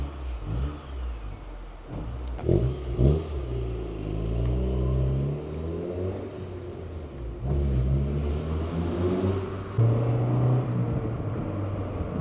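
A 1989 Honda CRX Si on a test drive, its engine revving and rising through gears with steady mid-pitched rumble and road noise, close and continuous throughout.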